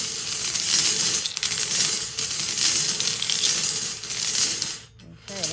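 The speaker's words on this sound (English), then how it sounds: "we've placed them in our wheel, and we're going to give this a little spin to mix them up" Lottery balls tumble and clatter inside a spinning drawing wheel at a weekly prize drawing, a steady rattling churn of light hard clinks that runs for several seconds before briefly dropping away.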